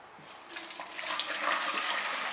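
Water poured from a container into a plastic spray bottle, a steady close splashing trickle that grows fuller as the liter fills, with no voices.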